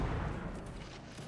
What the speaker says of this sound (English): Cannon continuing to fire.